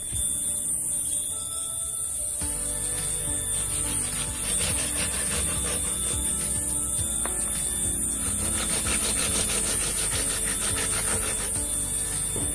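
A hand saw works through a branch of a large serut (Siamese rough bush) bonsai, giving a continuous close rasping stroke that runs steadily for more than ten seconds under a constant high hiss, with no talk.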